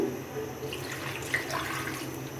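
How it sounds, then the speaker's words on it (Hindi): A cup of water pours into a pan holding a kilo of chicken for a restaurant-style chicken karahi, giving a soft, steady splashing trickle that is close and fairly quiet. "इसके अंदर हम ऐड करेंगे 1 कप पानी"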